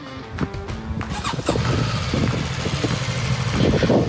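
A BMW 450GS adventure motorcycle starts up and settles into a mid-pitched idle, with a few sharp clicks and mechanical squeals at first, then a steady close engine hum.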